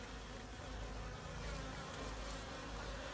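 Steady, dense buzzing of many honeybees swarming close by around a hive, a continuous drone with no talking.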